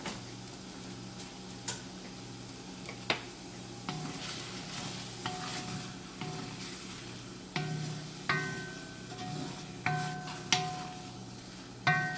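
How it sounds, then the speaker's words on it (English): Onions and garlic sizzle in a wok on top of marinated mushrooms, a steady close frying hiss broken by repeated clicking scrapes of stirring. "Adding in the onions and garlic on top of the mushrooms."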